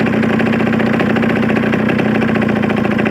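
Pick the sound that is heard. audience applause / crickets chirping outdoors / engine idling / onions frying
engine idling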